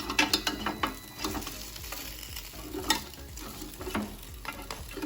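Baby back ribs sizzling and being flipped in a hot Ninja Foodi, with a steady frying hiss broken by sharp clacks and scrapes of tongs and handling, close and fairly loud with no talk.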